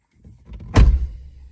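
A VW Tiguan door opens or closes with a single short thud and rattle near the middle, preceded by a faint mechanical shuffle, close and fairly loud.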